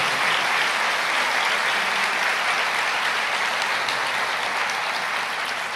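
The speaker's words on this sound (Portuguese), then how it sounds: "Pode aplaudir o Senhor." A church congregation breaks into loud, sustained applause, dense and even, with no talk over it.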